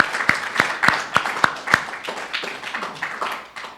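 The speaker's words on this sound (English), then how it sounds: "let's give another round of applause for that talk" A small church congregation claps after a talk at a Sunday service: a few distinct, sharp claps at first, then a thinner patter fading over a few seconds, with no talking.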